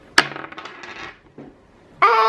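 A small object drops and rattles onto a hard surface during a board game. One sharp hit is followed by about a second of clattering. A bright tonal sound starts near the end.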